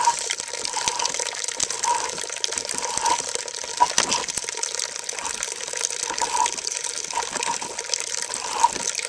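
Fresh apple cider streams steadily from a hand-operated apple press in Maine, a continuous trickling, splashing flow of liquid heard up close with no voices.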